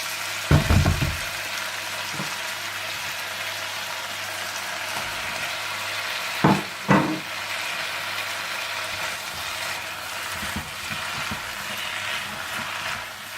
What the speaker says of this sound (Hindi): सब्जियों को अच्छी तरह कुक करने के बाद आप इसमें चिकन डाल दें और इसे भी अच्छी तरह से मिला लें।